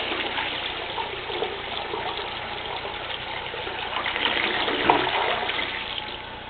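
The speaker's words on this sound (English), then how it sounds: "Okay, I'm gonna flush." A home toilet flushes in a bathroom with a steady gushing rush of water that builds slightly and then eases, close and alone with no voices.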